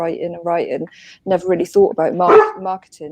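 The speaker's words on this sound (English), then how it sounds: "Sorry, excuse my dog." A dog barks several times in short bursts close by, mixed in with a person talking over it.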